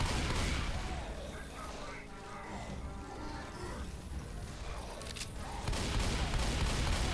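Gunfire with explosive rounds in the video game Left 4 Dead 2, a dense burst of shots and mechanical clatter over a rumbling backdrop, with heavier blasts toward the end.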